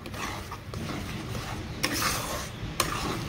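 A spatula stirs tomatoes for a sweet Bengali chutney in a pan, a quiet rasping scrape under a faint sizzle, broken by two sharper knocks against the pan.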